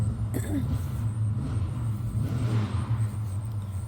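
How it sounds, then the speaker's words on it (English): A hot rod car being worked on nearby idles with a steady, low throbbing rumble that carries on without pause, moderately loud from a short distance. "My neighbor has a hot rod car that he's working on"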